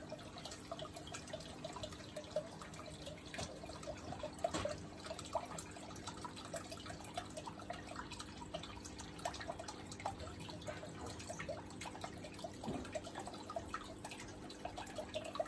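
Water pumped into a flood-and-drain aquaponics bed of unwashed gravel, with steady dripping and trickling over a constant low hum, fairly faint and continuous throughout with no talk.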